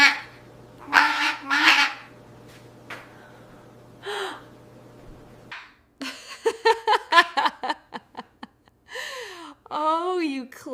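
A pet parrot calling close by, a series of loud squawks and honking, chattering notes in irregular bursts separated by quiet gaps.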